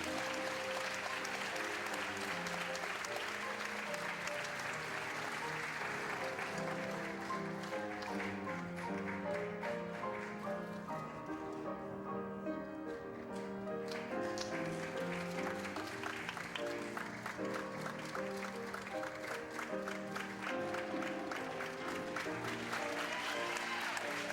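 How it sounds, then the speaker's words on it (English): Sustained audience applause at a Ms. Senior America Missouri pageant honouring the class of 2014, steady clapping running throughout with music playing underneath. "one more time, a big round of applause for our class of 2014"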